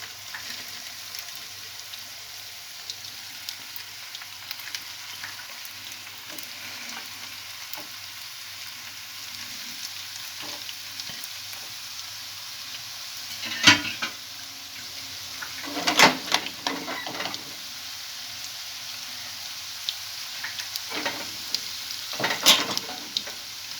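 Turkish meatballs (köfte) fry in hot oil in a pan with a steady oily sizzle, broken by a few louder bursts of crackling and scraping as they're turned.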